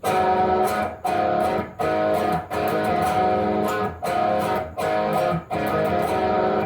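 Distorted electric guitar plays a riff in short, loud, choppy phrases separated by brief gaps, close and alone.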